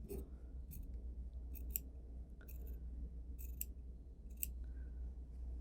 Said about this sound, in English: you go in and you trim one layer shorter